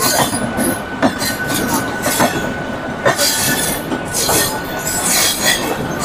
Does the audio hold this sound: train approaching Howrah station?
yes